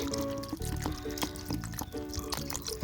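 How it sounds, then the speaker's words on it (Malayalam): Water is poured over cut orange peels to make fertilizer, a soft continuous trickling and splashing into a container, faint and close. "ഇങ്ങനെ കട്ട് ചെയ്തിട്ട് ഇതിലേക്ക് നമുക്ക് വെള്ളം ഒഴിച്ചു കൊടുക്കാം"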